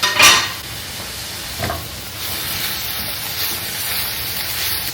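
Broccoli cooks in a pan with a steady sizzle and hiss, opened by a couple of clattering knocks from a utensil against the cookware.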